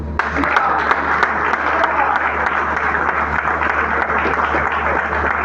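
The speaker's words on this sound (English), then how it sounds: "That applause will be louder." A large crowd applauds continuously, a dense steady roar of clapping that fills the room, with a low hum underneath.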